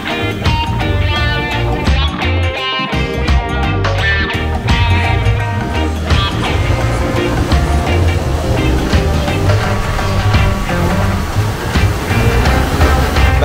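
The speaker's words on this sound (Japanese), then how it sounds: "一方で南側はかなり波が高いです。" Ocean waves break on the south side of a bay in Hawaii, a loud, continuous surf roar that washes on without pause.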